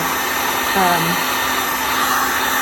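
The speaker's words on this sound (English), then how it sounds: "So get your heat gun nice and hot" A heat gun blows hot air in a steady, loud broadband whoosh that holds evenly throughout, with a brief faint tonal wobble partway through.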